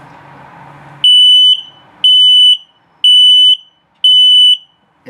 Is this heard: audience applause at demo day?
no